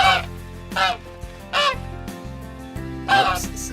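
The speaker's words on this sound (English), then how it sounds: "It's a bunch of geese." Geese by a lake give four loud, nasal honks at irregular intervals over a steady low background tone, with no one talking.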